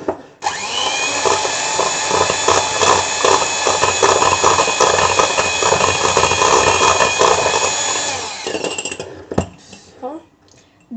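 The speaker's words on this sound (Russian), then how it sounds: "Взяла блендер лучше с одной палочкой, чтобы получше." A hand blender mixing cake batter whirs loudly and steadily for about eight seconds, its motor buzzing and rattling in the bowl, then cuts off with a few clicks.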